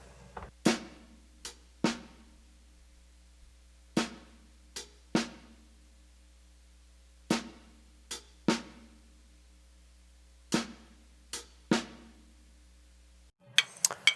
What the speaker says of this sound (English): for beat 4, we have a snare and a hi-hat together, accented